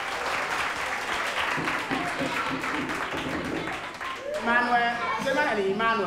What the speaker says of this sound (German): Und Applaus.